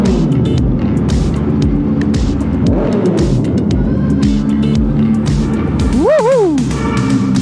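A Yamaha MT-09 Gen III motorcycle on new Michelin Road 6 tires revs loudly and rises and falls in pitch, with wind rushing and a sharp rising engine wail near the end and a voice partly heard underneath.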